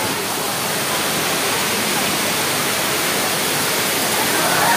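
Daranak Falls, a waterfall, roars as a dense, steady wash of broadband rushing water, loud and unbroken throughout with no voices over it.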